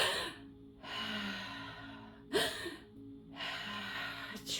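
Soft breathing in a quiet room: a few slow gasping breaths in, each followed by a longer audible exhale, close and faint, with no talking.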